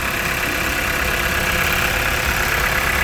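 A flood-damaged 2021 Hyundai Santa Fe Calligraphy sits idling, its engine holding a steady, even hum heard up close, with no talk.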